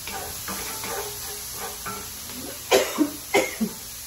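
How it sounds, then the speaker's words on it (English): Several sharp coughs come near the end, preceded by softer throat noises over a faint background hiss. "That pepper always makes me cough"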